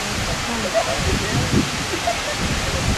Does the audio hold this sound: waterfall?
yes